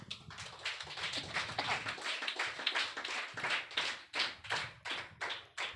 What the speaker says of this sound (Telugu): అందరూ ఒకసారి గట్టిగా దేవుని నామాన్ని మహిమపరుస్తూ చప్పట్లు కొడదాం.